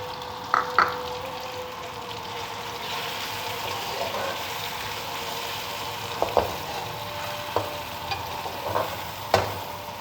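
Tomatoes and spices fry in a pan for a radish (mooli) curry, giving a steady close sizzle with a few sharp stirring clinks and scrapes scattered throughout.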